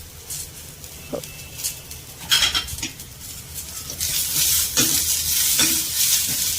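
Onion sizzles in a pan while it browns for a chicken curry, with a hissing fry that swells in the second half and is broken by sharp scrapes and clinks of a spatula against the pan.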